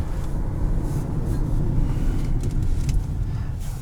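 A 2021 Kia Telluride with its 3.8 engine running, a steady low rumble and road drone heard from inside the cabin, loud and continuous with no talk.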